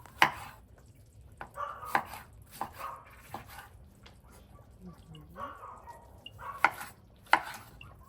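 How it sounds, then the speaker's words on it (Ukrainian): Knife chopping a tomato into large chunks for bograch, a series of sharp, distinct board strikes spread irregularly over several seconds, close and fairly loud, with faint background murmur between hits. "Шинкую його величенькими шматочками та кидаю у казан"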